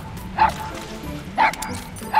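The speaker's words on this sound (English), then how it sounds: "Okay, dog, you're gonna need to shut up." A dog in the video game Metal Gear Solid 5 gives three short, sharp yips spaced about a second apart, with faint whimpering between them, close and fairly loud.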